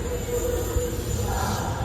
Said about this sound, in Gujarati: ફાઇનલી મિત્રો આપણી ટ્રેન ઉપડી ગઈ છે